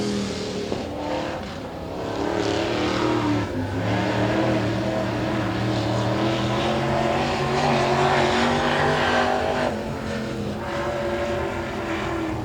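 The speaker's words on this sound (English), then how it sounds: "So as Keggy winds the number 8 up down the back straight." A pro mod race car accelerating hard down the back straight, its loud engine winding up in a rising, sustained roar as the revs climb, close and continuous.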